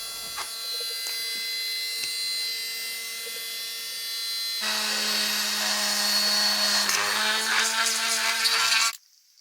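A small electric drill whines steadily at close range, then the motor pitch and loudness jump as it bites into acrylic before cutting off abruptly.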